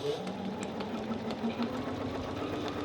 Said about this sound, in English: we are going to start sewing where we stopped. So I'm going to just plant my needle, back stitch